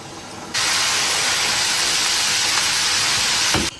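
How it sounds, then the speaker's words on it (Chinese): Chicken coated in frying powder drops into a pot of oil at 180 degrees, starting as a sudden, loud, steady hiss and sizzle that holds evenly for about three seconds, then cuts off. "油温180度，下锅。"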